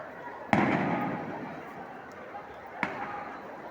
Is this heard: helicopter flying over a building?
no